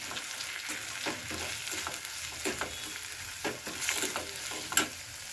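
Chili powder and salt being stirred into an egg pakodi curry, with a spoon scraping the pot in repeated strokes over a soft, steady sizzle, close and with no talking.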